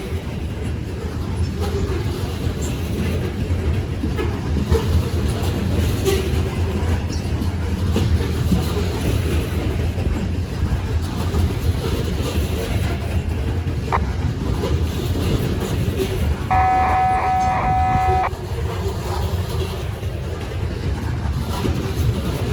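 A long freight train with distributed power units rolls steadily across a bridge, a loud continuous rumble of wheels and cars with a brief squealing tone partway through.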